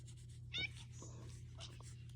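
A house cat gives a single short meow partway through, set against a steady low hum and faint murmuring in a home during a house move.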